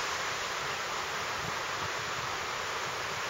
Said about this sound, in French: on va laisser passer la bourrasque de vent qui arrive